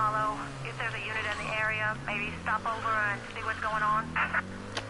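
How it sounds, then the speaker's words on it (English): In Mafia III, a police radio relays a 911 call, a filtered, narrowband dispatcher voice with radio crackle, moderately quiet and continuous through the moment. "that was the police radio picking up the call, 911 call"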